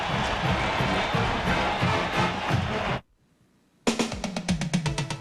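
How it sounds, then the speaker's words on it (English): A stadium crowd at the 1990 Florida vs Georgia college football game roars and cheers for the Florida defense, a broad sustained wash of noise that cuts off abruptly partway through. "Again, a big cheer for this Florida defense."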